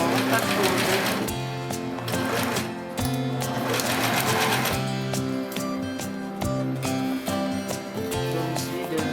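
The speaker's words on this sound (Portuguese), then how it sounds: "Agora nós vamos passar a máquina aqui na parte interna. Agora vamos costurar a volta toda aqui." Sewing machine stitching around a pot holder glove, with a steady fast mechanical needle rhythm that pauses briefly now and then; close and fairly loud, with a voice talking over it.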